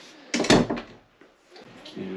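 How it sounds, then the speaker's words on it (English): An interior door in a house is shut with a thump during dog training of a Kerry Blue Terrier, with a softer clatter following and a voice speaking nearby afterward. "Shut the door."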